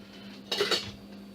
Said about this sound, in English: Now we're just going to give this a nice stir.